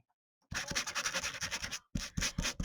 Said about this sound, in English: I can even sand it.